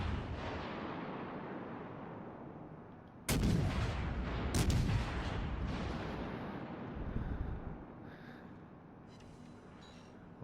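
Battleship main guns firing a salvo in World of Warships, heard as two loud booming blasts in quick succession with long rumbling tails over a steady background roar.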